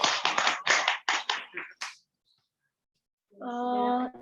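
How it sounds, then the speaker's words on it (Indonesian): A small cell-group worship gathering claps briefly, a short burst of scattered hand claps that stops abruptly, followed by silence and then a voice. "Kasih dong tepuk tangan."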